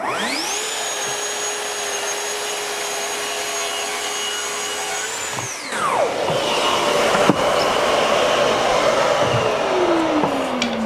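Power saw spins up with a rising whine, runs at a steady high pitch, then bites into the workpiece with a louder, rougher cutting roar that winds down as the blade slows.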